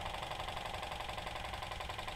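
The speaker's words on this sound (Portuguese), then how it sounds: "o motor está equilibradinho, então ele funciona por mais tempo assim" A small Stirling engine with speed control runs steadily, giving a fast, even mechanical rattle and whir that fills the whole stretch at moderate volume, with no talk over it.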